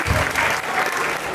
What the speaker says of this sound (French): On l'applaudit encore très très fort.